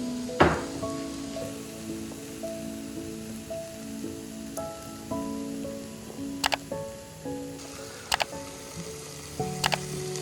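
Seeni sambol, a sweet onion relish with salt, tamarind, curry leaves and cinnamon bark, sizzles gently in a pan while it is stirred, with a few sharp scraping knocks over a steady crackle and soft music in the background.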